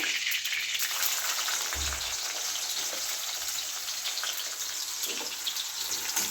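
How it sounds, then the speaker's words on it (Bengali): Thinly sliced onions frying in a pan for chicken chow mein, a steady, hissing sizzle heard up close that keeps a constant level throughout, with a brief low thump near the start and no speech. "পেঁয়াজটাকে হালকা করে ভেজে নেবো"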